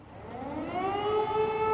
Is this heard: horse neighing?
no